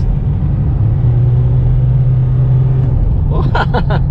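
A Nissan Navara pickup with a downpipe exhaust and street remap runs with a deep, steady engine rumble, then gives a few quick revs near the end.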